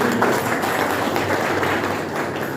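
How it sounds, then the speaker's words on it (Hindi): Applause from an audience at an education policy training session, a dense steady patter of many hands clapping for a couple of seconds with no voices over it. "तो थोड़ा ताली बजा दीजिए मेरे लिए"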